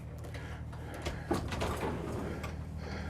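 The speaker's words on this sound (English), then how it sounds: "this has 3 doors that close off in this area" Solid wood doors sliding and closing inside a Renegade Veracruz 35MDS 4X4 motorhome, a few soft knocks and a sliding scrape close by over a low steady hum.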